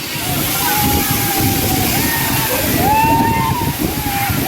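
The Gandahati waterfall in Gajapati, India, roars in a loud, continuous rush of churning water, close and steady, with a voice faintly audible beneath the noise.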